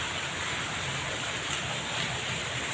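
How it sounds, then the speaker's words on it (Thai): A waterfall behind a cafe gives a steady, broad rushing hiss that stays even throughout, heard from a moderate distance with no voices over it. "มีน้ำตกได้เสียงน้ำตกได้ยินครับ"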